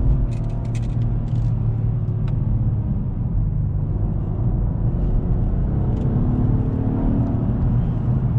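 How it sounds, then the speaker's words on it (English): A 2020 Acura TLX A-Spec drives along a back road, its engine producing a steady low rumble and whir from inside the cabin, with a few faint clicks and no talking. "gonna drive the Acura a little on this back road here."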